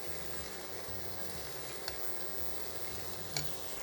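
Chive, chadon beni and onion sizzle steadily in a hot pan while being stirred for a beef lasagna base, a constant close frying hiss with a couple of sharp utensil clinks.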